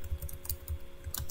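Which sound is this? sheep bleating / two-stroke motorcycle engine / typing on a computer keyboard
typing on a computer keyboard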